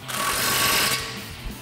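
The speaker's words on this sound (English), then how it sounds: "we'll tighten that nut back down with our 21mm socket." Impact tool with a 21mm socket drives a nut tight on a 2021–2024 F-150 front suspension during a leveling kit install. It gives a loud, rapid hammering burst lasting about a second, then a brief tail-off.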